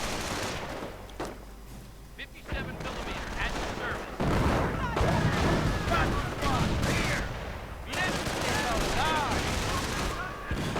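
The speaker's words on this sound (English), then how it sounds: "Mortars keep falling." Mortars falling and rifle and machine-gun fire in a World War II strategy video game battle, with dense continuous explosions and bursts throughout under a commentator's running voice.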